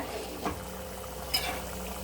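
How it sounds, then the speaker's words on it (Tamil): A pot of tomato fish curry simmers with a soft, steady bubbling hiss, broken by a couple of faint light clinks. "வா தக்காளி சூப்பராக கொதிக்க ஆரம்பிச்சிருச்சுங்க"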